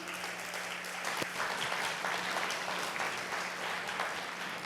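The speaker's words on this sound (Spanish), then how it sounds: "¿Le podrás dar un aplauso al Señor por la vida de Jenny?" A church congregation claps together at moderate distance, a steady dense patter of hands filling the room without voices standing out.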